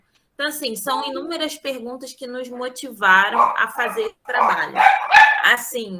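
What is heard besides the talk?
dogs barking in the house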